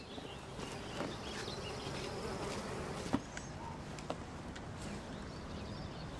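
An insect colony sheltered in a box drones with a continuous close buzz, with a few brief sharp knocks and clicks standing out.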